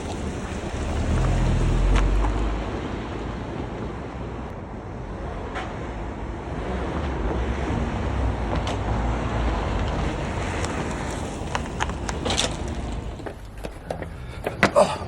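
A 1999 barn find car drives on its first test drive, a steady broadband rumble of road and wind noise with low engine drone, fairly even throughout and a few clicks near the end.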